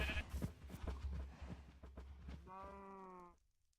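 A sheep bleats once in the video game Agrarian Skies, clear and wavering, near the end, following a stretch of muffled thumps and background noise.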